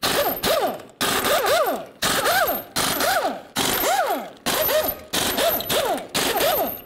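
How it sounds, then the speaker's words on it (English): Impact wrench removing lug nuts with a 21 millimeter socket from a Ford F-350 dually front wheel, about eight sharp, loud, ratcheting bursts in a fast repeated rhythm with a whining pitch sweep, no talk. "The next thing we're going to do is remove our lug nuts using a 21 millimeter socket."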